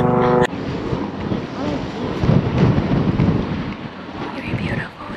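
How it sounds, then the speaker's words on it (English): Strong wind sweeps over the coast at Cape Zanpa, Okinawa, roaring and buffeting the microphone in a loud, steady rush with gusts rising and falling throughout. "This wind can push you."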